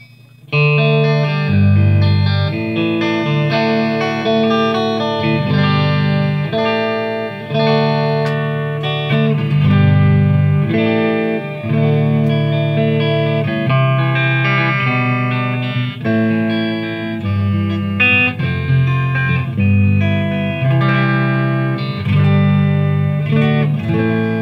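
Electric guitar playing chords and melodic lines through a Marshall Vintage Modern 2466 amp with reverb turned all the way up, washy and sustained, loud and continuous without speech.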